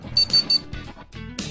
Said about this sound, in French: Le volet accepte son numéro d'adresse et vous le signale par 3 bips.